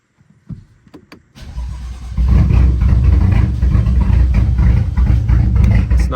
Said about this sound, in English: All right, so start engine.